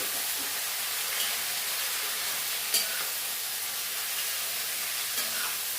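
Steady hot-oil sautéing sizzle after mustard seeds have finished popping, close and continuous, with a few faint clicks and taps over the hiss.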